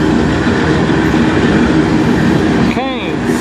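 CN 301 manifest freight train with locomotives CN 8961 and CN 2514 passing in Sarnia, a loud, close, continuous rumble of railcars rolling by, with a short wheel squeal toward the end.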